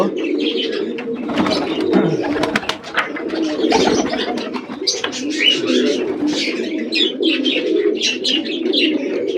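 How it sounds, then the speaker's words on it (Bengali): Pigeons at a morning feeding coo and rumble continuously and close by, with scattered wingbeats and chirps mixed through the low, layered calls. "এখন অল্পই পায়রা, আগের মতো কিন্তু আর পায়রা নেই।"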